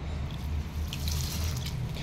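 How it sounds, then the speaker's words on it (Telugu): Multigrain dosa grains being rinsed in water, with steady running tap water and sloshing as the grains are washed, close and continuous for about two seconds. "మంచిగా వాటర్ వచ్చే వరకు మంచిగా కడుక్కోవాలి మనం"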